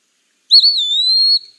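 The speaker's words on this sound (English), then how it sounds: "The Eastern wood pewee has a pee-wee sound" A single clear, slurred whistled Eastern wood pewee note, high and sustained for under a second, heard alone against silence.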